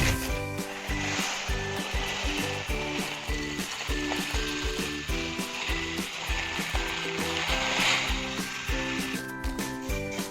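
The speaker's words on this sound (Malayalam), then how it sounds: "അപ്പോൾ സേമിയ നമുക്ക് ആദ്യം വറുത്തെടുക്കാം." Semiya vermicelli frying in ghee in a pan gives a dense, steady sizzle with rhythmic scraping and stirring strokes throughout, close and fairly loud, with no voices.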